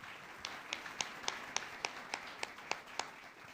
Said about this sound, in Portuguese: Uma salva de palmas para Jesus